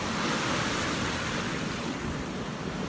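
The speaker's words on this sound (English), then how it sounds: "we decided to take a break here at the rapids" River rapids rush in a continuous, even roar of flowing water, moderately loud and steady throughout with no speech.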